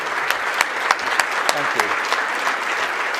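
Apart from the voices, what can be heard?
audience applause for a speaker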